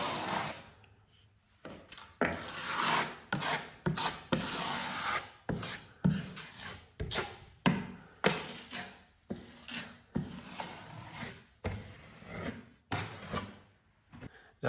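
Fiberglass mesh tape is pressed and smoothed into plaster joint compound over a stress crack in an archway, making a series of rhythmic rasping, rubbing strokes, close and quiet, with no voices.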